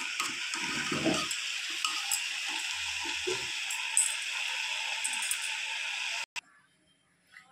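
Water pours into a cooking pot of chana dal with goat fat as a continuous rushing splash, mixed with a few stirring knocks, then cuts off abruptly into near silence.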